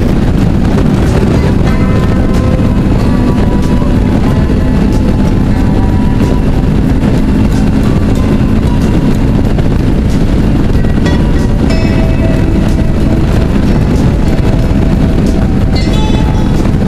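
A Suzuki V-Strom motorcycle cruises at speed on the motorway, with loud, constant wind roar and engine drone running unbroken throughout.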